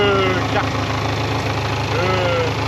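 A 250 cc liquid-cooled Barossa quad bike engine idles slightly high, a loud, steady, close throbbing hum, with someone speaking over it.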